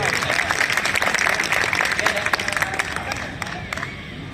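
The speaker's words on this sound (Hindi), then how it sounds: "एक बार अच्छे से ताली बजा दो" An audience at a kavi sammelan poetry gathering applauds and cheers, a dense wash of clapping with crowd voices mixed in, loud and sustained before thinning toward the end.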